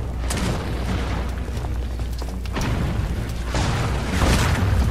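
Bomb blasts in the video game The Order: 1886, heavy booming explosions rolling over a constant low rumble, with a couple of sharper bursts partway through and a louder swell near the end.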